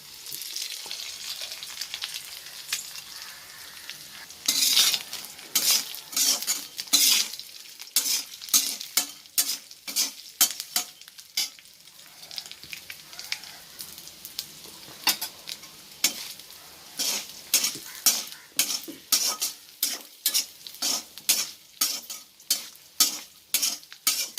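Small dried anchovies (nethili karuvadu) roasting in a pan with pepper and salt, rapid repeated spatula strokes scraping and tapping over a background sizzle, growing steadier and rhythmic toward the end.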